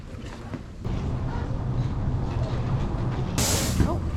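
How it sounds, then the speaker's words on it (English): A city bus in Paris rumbles past at close range on a winter day, a steady low engine drone swelling with a brief hiss of air near the end. "Oh, the bus is going by."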